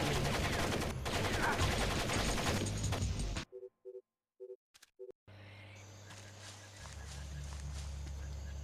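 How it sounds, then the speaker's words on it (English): Gunfire in the stealth game Splinter Cell: Pandora Tomorrow rattles in a loud, rapid burst, then a few short, isolated shots pop out of near silence before a low ambient hum and muted noise return. "They're shooting at me."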